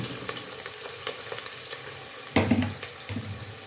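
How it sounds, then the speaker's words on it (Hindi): Chopped onions hit hot oil in a pan for moong dal, breaking into a sudden loud sizzle partway through after a quieter stretch of faint kitchen rustling and clinks, then settling into a steady crackle. "ऑयल हमारा गर्म हो चुका है और ऑयल में हम डाल देंगे प्याज।"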